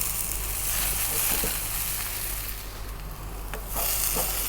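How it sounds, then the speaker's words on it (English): A spatula scrapes and stirs potato and cabbage frying in a pan for bubble and squeak, with a constant close sizzle and intermittent scraping strokes against the pan bottom. "Scrape all these bits off the bottom, you know, scrape it, mix it in."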